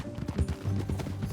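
Steady horse hoofbeats clip-clop at a walking pace in Red Dead Redemption 2, close by, with a low rumbling background and no talking.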